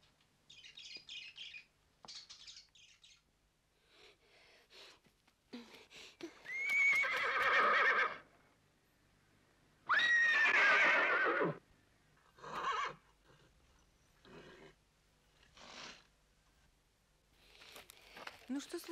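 A horse standing in a garage in the film Solaris lets out two long, loud whinnies a few seconds apart, set among quieter scattered sounds and brief speech.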